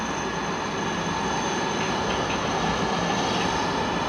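Jet aircraft taking off at Frankfurt Airport on a frosty day, a steady loud broadband engine roar holding constant throughout, with no voices over it.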